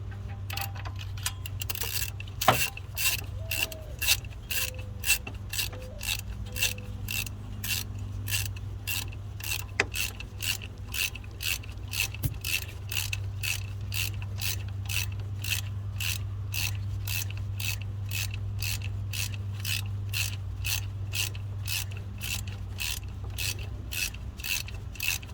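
A ratchet tightens a new spark plug on a 1998 GMC K1500 with a 5.7L engine, producing a long, steady series of close, rapid clicks over a low mechanical hum, with no talk.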